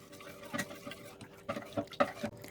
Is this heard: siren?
no